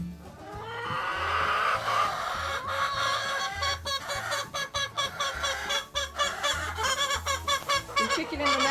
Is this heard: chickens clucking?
yes